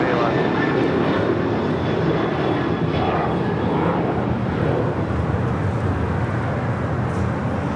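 A jet airliner departs LAX, its engines giving a broad, sustained roar that swells and drifts with distance, heard outdoors with faint traffic noise in the background.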